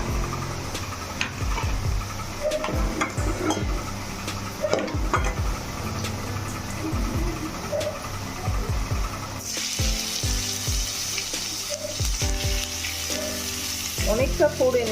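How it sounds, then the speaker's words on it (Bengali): Chopped banana stem sizzles in a pan of hot spiced oil, with a steady loud frying hiss and occasional clinks of a utensil against the pan, running continuously without talk. "এবার দিয়ে দেবো থোরগুলোকে"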